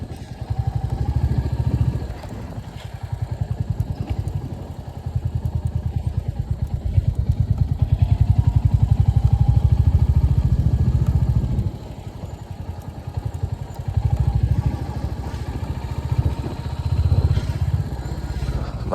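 A Royal Enfield Hunter 350 motorcycle thumps steadily through Nathang Valley in Sikkim, with its engine loud and close throughout. The pitch rises and falls as the rider works the throttle, under constant rumble and wind.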